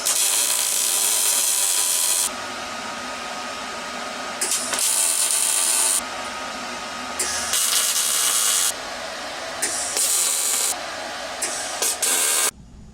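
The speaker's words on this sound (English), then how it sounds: "So I'm going to go through here and tack the rest of this and put a bunch of tacks on it." Tack welding a custom steel bumper, with bursts of harsh, crackling buzz lasting a second or two each, separated by quieter gaps, repeated several times close by.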